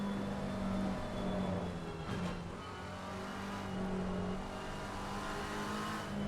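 A big BMW race car in ACC on the Nordschleife hums at a steady pitch from a bonnet-mounted view, with a brief dip and rasp midway before the engine settles back into a sustained drone.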